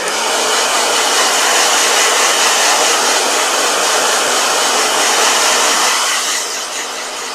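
A handheld blow dryer runs steadily on a watercolor painting, a loud, close, continuous whooshing hum that stays even for about six seconds, then drops slightly as it is moved away.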